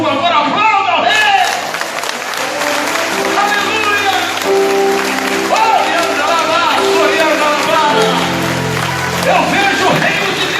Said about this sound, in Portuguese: Se você concorda com isso, por favor, aplauda o rei.